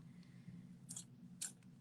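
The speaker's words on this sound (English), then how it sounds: "I just snipped off a little bit more in my bag so it's a little bit more open" Two quick snips from a pair of scissors cutting the tip of a plastic piping bag while decorating cookies, each a brief crisp cut about half a second apart over a steady low hum.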